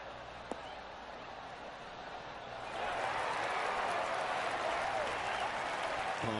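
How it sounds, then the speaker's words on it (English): A crowd in the PGA Tour 2K23 golf video game breaks into polite applause that swells midway and holds as a steady patter, with a commentator's voice heard faintly at the start. "Oh, golf clap."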